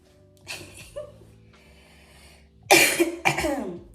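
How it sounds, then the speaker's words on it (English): A few soft breaths followed by two loud, harsh coughs close to the listener, the second a rapid burst of hacking. "See, I still cough."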